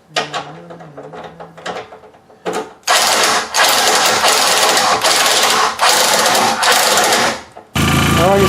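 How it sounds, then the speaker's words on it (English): Race car cooling fans whir loud and steady in sustained bursts with a faint rattle mixed in, following a stretch of quieter handling noises and clanks. "got the fans working"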